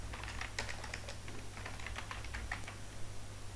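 Rapid keystrokes on a computer keyboard while a username is entered, irregular clicks in quick bursts at close range over a steady low hum, with no voices.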